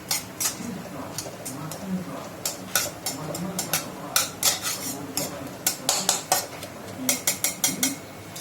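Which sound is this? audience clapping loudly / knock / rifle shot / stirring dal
stirring dal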